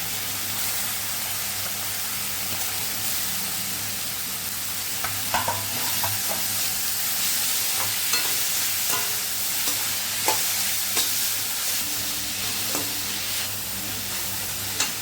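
Beans and carrots stir-fried for hotel-style fried rice over a full flame, a loud continuous hiss of frying with a ladle scraping and tapping the pan in scattered strokes, close and steady without talk.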